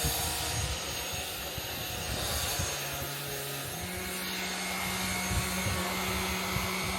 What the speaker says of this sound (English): I brought my Jigoo vacuum downstairs so that way you can see you can even use this on upholstery, on sofa.